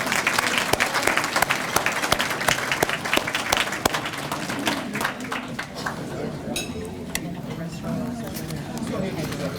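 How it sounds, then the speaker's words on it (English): Applause at a hall of fame induction ceremony dinner, a dense burst of clapping from a room full of diners that thins out over several seconds, with dishes clinking and people talking underneath. "Let's give the folks at Myra's a nice round of applause for their work."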